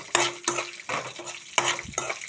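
Green chilies with cumin fry in a pan for ridge gourd chutney, with a soft sizzle and about five rhythmic stirring scrapes of a spoon against the pan, close by with no talking.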